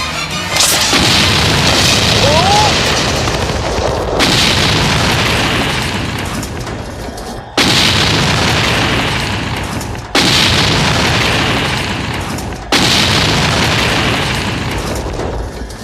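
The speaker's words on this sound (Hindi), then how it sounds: "अरे ये क्या, हमारी ही गाड़ियाँ उड़ गई?" Vehicles blow up in a South Indian action movie scene: a chain of five huge booming explosions, each a sharp loud blast fading into rumbling debris, spaced a few seconds apart.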